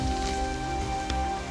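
Steady rain falls through a forest during a morning bear hunt in Alberta, a continuous hiss of drops on leaves and surfaces, with one brief louder patter partway through and no talk.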